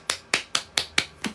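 Hand clapping rings out in five or six sharp, evenly spaced claps, close and crisp against a quiet background with no voices.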